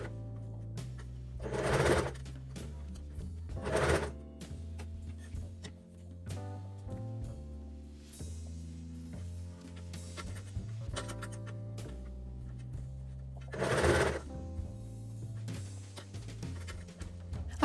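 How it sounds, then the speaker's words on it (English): A sewing machine stitching gathered tulle fabric under elastic, a steady low mechanical hum with brief louder rustling bursts as the fabric is handled, close and alone. "now I can remove this center pin and carry on sewing the same way like I did"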